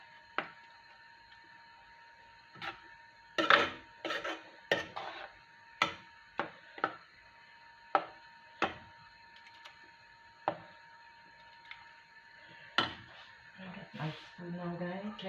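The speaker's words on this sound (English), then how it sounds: "I'm gonna get my spoon and scrape this can down" A spoon scrapes out a can of coconut milk for a Guyanese coconut tart, making a series of irregular metallic clinks and scrapes, close and fairly quiet, with a quick rapid scraping burst at the end.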